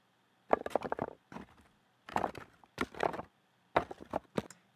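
Slow, uneven crunching footsteps on loose rocks, in short clusters separated by pauses, fairly close and moderately quiet, used as a sound effect.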